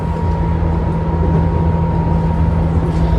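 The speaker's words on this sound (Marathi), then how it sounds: "सो आता आम्ही इथे एक्सप्रेसमध्ये बसलेलो आहोत" Cabin of an express train running toward Chiba, Japan: a loud, steady low rumble with a constant tonal hum, continuous and without talking.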